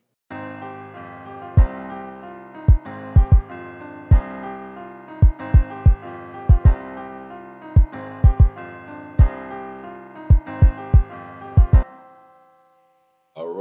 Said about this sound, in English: This kick goes like this.